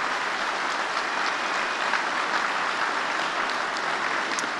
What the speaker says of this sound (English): Would you give Karen one more round of applause for all that she does for the cause in the country?